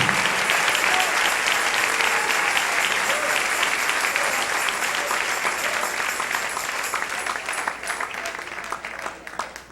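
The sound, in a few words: congregation applause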